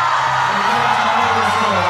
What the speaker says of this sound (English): And the Korean crowd get right behind him